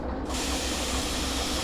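Train brake release in the Derail Valley simulator game, a sudden loud burst of air hiss that starts abruptly and holds steady, alone without speech.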